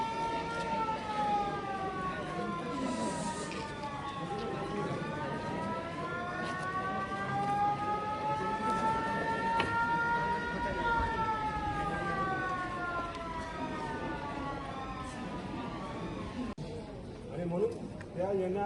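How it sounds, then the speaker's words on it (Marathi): A civil defense siren wails through a mock emergency drill at the Sindhudurg district collector's office, its pitch rising and falling steadily for the whole stretch over outdoor background noise, with people talking faintly underneath. "सायरन कधी वाजवते सांगतो"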